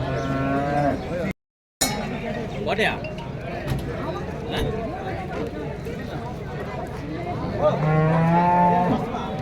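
Cattle moo loudly nearby at a livestock market, once at the start and again near the end, amid people talking and a busy outdoor crowd.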